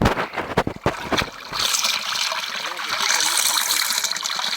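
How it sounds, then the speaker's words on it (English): Cold water runs steadily from the Bride Spring, the first of seven springs at Battir, making a close, continuous splashing trickle after a few brief knocks at the start. "this is the first spring out of the 7 springs here in Battir, which is called the Bride Spring"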